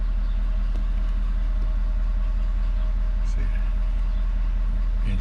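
A Ford F350 truck engine idles with a steady low rumble throughout, close by and even in level, while a person talks over it.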